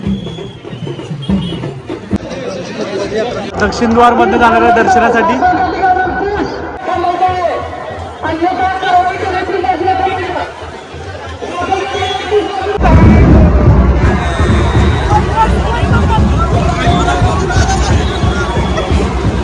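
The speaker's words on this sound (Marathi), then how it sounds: "ते भक्त भाविक बघू शकता इथं प्रचंड अशी गर्दी झालेली आहे ज्योतिबा डोंगरावरती" Huge crowd of devotees at the Jyotiba hill temple during the Chaitra Purnima yatra in Kolhapur: dense, loud babble of many voices close by, swelling louder toward the end, with a person speaking over the hubbub.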